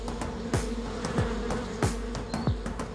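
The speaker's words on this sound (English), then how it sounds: "So the honey gatherers will not only have to deal with perilous heights, but also with angry bees." Angry honeybees swarming at a cliff comb during honey gathering drone steadily up close, with several louder buzzes sweeping past in quick succession.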